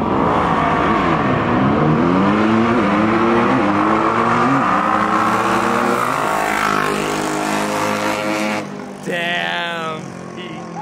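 Honda Big Wheel minibikes race with small engines screaming close by, their pitch climbing repeatedly through shifts in a loud overlapping whine, then easing off as one fades and another passes near the end.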